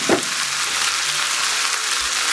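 Yogurt, tomato and onion mixture for chicken korma frying in a pan, a steady broad sizzle throughout with a brief soft clunk near the start, no voices.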